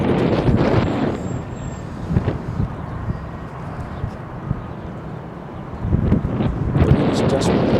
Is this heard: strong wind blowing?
yes